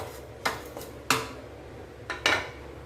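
Kurma spice mix dry-roasted in a pan, heard as a few sharp clanks and scrapes of a utensil against metal, four distinct knocks spaced irregularly over quiet background.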